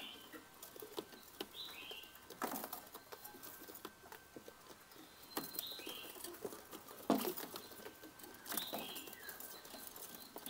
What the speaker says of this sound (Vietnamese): mấy con chim ở trên em mới ra cái học này nó hót dữ quá